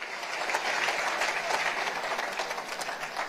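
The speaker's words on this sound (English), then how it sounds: "another round of applause for His Excellency" Audience applause for the President of Somalia at the Uganda-Somalia investment and business summit, a steady, dense wash of many hands clapping at moderate level throughout.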